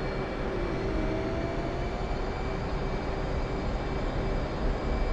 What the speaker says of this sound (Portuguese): Deixa eu decolar rapidinho aqui